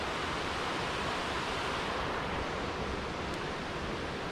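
Grey Creek rushes by, a steady, loud, broadband roar of flowing water that continues unchanged from start to finish.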